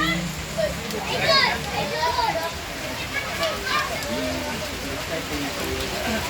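Dense, continuous rain hiss fills the scene, with several voices talking over it, including children.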